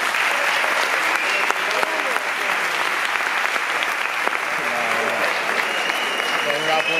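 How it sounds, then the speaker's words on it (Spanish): A theatre audience applauds steadily at a horror film presentation, a dense continuous wash of clapping held at an even level throughout, with faint voices mixed in. "Un aplauso para él, por favor."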